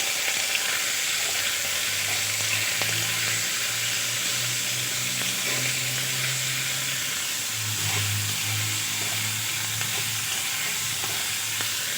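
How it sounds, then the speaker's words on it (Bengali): Onion and green chilli fry together in oil, a constant hissing sizzle with a low hum and faint stirring scrapes, steady and quiet throughout, with no one speaking. "ভেজে নেব পেঁয়াজ আর কাঁচা লঙ্কা একসাথে"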